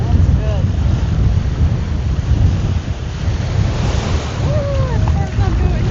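Strong wind buffets the microphone at No Name Beach on Klein Bonaire, with surf washing in continuously underneath, a loud, roaring, unbroken rush close by with no voices.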